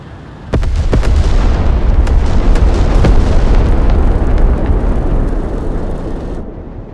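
Ballistic missile strikes in the Broken Arrow game: a sudden loud blast followed by several sharp impacts and a sustained roaring rumble of explosions, with no voices, tapering off at the end.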